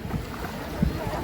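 Sea water washes in over the beach at Diu in a continuous low rushing wash, close by, with wind rumbling across the microphone.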